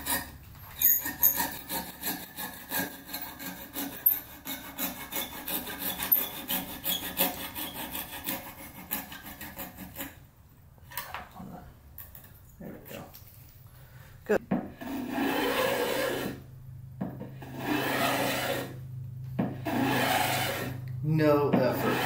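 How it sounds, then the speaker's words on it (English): Scraps of wood are shaped for a homemade guitar with hand tools, steady rhythmic rasping and scraping strokes, close and clear, with several short pauses between passes and no talking. "stop talking for a minute so you can hear some satisfying woodworking sounds"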